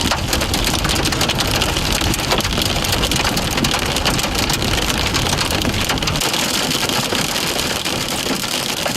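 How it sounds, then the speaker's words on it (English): Hail pelts a car in a dense, steady roar of hard impacts for several seconds, loud and continuous with no speech. "That's some hail."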